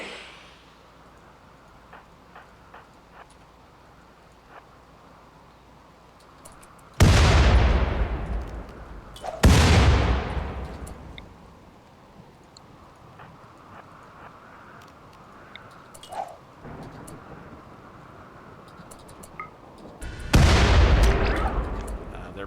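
In the video game RimWorld, three heavy grenade blasts boom out at spaced intervals, each a sharp loud burst that decays over a couple of seconds, with quieter gunfire crackles and a low background between them.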